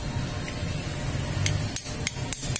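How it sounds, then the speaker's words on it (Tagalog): Sharp metallic taps on the keyless switch lock of a Honda Click 150 scooter, about six quick knocks clustered near the end over a low steady hum, close by with no talking. "kailangan natin tuktukan to dahil may lock kasi to"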